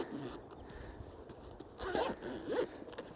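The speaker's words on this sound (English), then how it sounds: "So it's got a nice strong zipper here" The zipper of a car jump starter's carrying case is pulled open in a few short rasping strokes, close by, over a quiet background.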